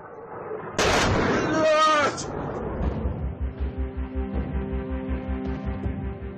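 Russian missiles explode over Kyiv at dawn: one loud, sustained blast roars for about a second, followed by a low rhythmic thudding as a voice speaks over the aftermath.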